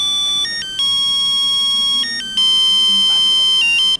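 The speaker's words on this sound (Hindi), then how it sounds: "जरा बीवी का फोन है" Mobile phone ringtone sounding as a wife calls, a loud electronic melody of steady held tones shifting pitch in repeating steps for about four seconds, close and unbroken by talk.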